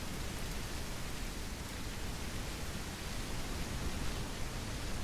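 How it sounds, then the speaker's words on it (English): Heavy rain of fat drops falls in a tribal survival video game, heard as a steady, even wash of hiss with no breaks, at moderate level. "That rain looks surprisingly good. Nice fat drops of rain."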